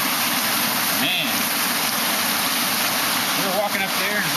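A waterfall rushes steadily through cold, icy surroundings with rising steam, a continuous broadband roar filling the whole clip, with faint voices briefly audible over it.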